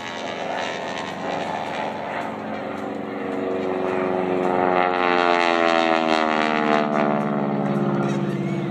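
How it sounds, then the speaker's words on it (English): A restored North American P51 Mustang flies overhead, its propeller engine producing a loud, sustained drone that swells as it passes. A rising, sweeping tone marks its approach and movement. "the beautifully restored North American P51 Mustang"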